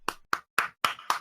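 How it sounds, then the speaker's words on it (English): Five sharp hand claps at an even, unhurried pace, each crisp and distinct with silence between them, close by. "You clap for yourself."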